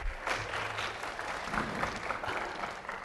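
A high school audience at a hypnosis show applauds the volunteers just woken from trance, a steady crowd clapping with slight swells, moderately loud and heard in a large room with a faint low hum beneath.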